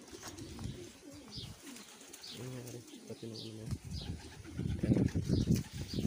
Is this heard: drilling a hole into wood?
no